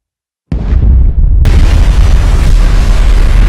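A massive explosion bursts suddenly out of silence, then a deep, roaring rumble and crackling debris wash on loudly for several seconds.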